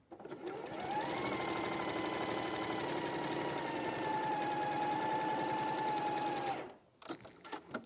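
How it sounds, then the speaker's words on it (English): A sewing machine revs up and races along a marked line for roughly five seconds, a loud, steady whirr that winds down to a stop, followed by a few light clicks. "I'm going to sew down that line"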